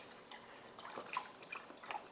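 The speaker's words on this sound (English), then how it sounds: "So let's just add a little bit of water." Water is poured into a pot over chicken as a quiet, light trickle of splashing drips and dribbles, soft and close, with no voices.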